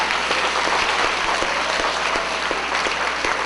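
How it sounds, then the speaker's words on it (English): Schoolchildren at a school assembly applaud in a dense, steady burst of clapping that fills the room, loud and continuous with no voices rising above it. "give yourselves another big round of applause"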